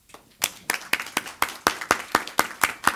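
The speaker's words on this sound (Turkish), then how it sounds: "Son bir alkışımız var." Audience at a panel discussion on Turkey's legal system claps in a steady, rhythmic beat, about a dozen evenly spaced claps, fairly close and loud.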